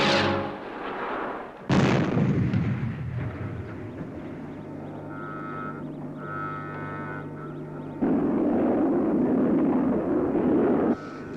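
Rocket engine ignition and launch from the Fireball XL5 puppet series, a loud roaring blast with a sharp onset, sustained thunderous rumble and a tonal whine, then a second surge of roar.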